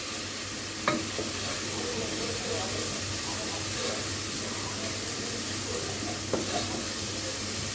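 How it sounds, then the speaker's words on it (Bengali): Spices for beef tehari sizzle and fry in a pan as they are stirred, a steady close hiss broken by two sharp clinks of a utensil against the pan. "এরপর সবগুলো মশলা একটু কষিয়ে নিব।"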